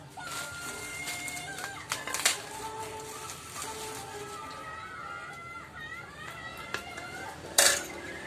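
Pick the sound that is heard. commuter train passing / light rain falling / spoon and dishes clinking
spoon and dishes clinking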